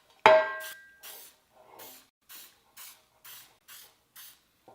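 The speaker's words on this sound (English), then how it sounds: "Just some spray butter or spray cooking oil." Spray cooking oil or spray butter spritzed to grease for bread making: one longer opening burst followed by a regular series of about eight short hissing puffs, close and alone with no talk.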